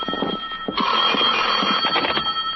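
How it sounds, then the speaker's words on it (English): A telephone rings with a bright, loud electric bell in short repeated bursts, one long sustained ring in the middle, close by with no voices. "my phone rang"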